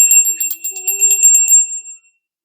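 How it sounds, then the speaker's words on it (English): A small bell rings with bright, sustained metallic tones in a quick series of strikes that fade out after about two seconds, heard alone at the start of a tarot reading. "I'll ring the bell"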